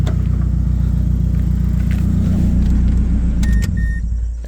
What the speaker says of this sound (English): I'm gonna turn this car off actually.